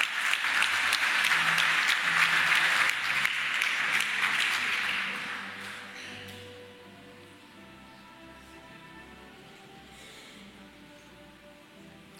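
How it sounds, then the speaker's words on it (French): Applause from the congregation at a graduation thanksgiving Mass for a school class, a dense steady wash of clapping that fades after about five seconds into quiet room tone with low murmurs. "Je vous demande de l'applaudir."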